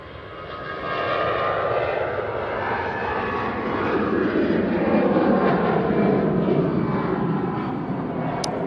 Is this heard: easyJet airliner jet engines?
yes